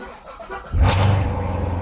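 A car engine cranks and catches after its battery has been charged, a quick turnover followed by a steady idle rumble close by, no talking.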